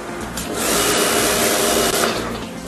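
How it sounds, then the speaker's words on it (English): A power tool whirs loudly, rising in intensity, holding a steady high-pitched grind, then easing off briefly. "Man and power tool in perfect harmony."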